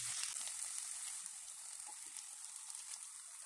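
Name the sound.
frying capsicum, tomato and coriander in a pan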